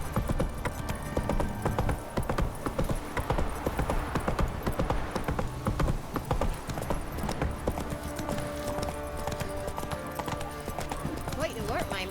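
A horse gallops with steady, rapid hoofbeats through The Witcher 3, under continuous game music and ambience. A voice speaks over the hooves.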